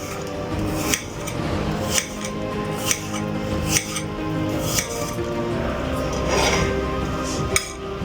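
A knife chops thin apple slices into small pieces on a board, with evenly spaced sharp taps about once a second over a steady low background.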